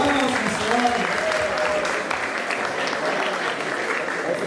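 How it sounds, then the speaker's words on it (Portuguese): Applause from an audience at a church youth camp gathering, a steady dense wash of clapping with voices mixed in throughout, fairly close and sustained. "Salve de palmas"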